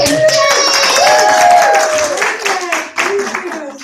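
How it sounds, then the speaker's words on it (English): An audience claps and cheers loudly, with whoops and excited voices riding over the applause before it thins out. "Please applaud as if it were you getting the applause."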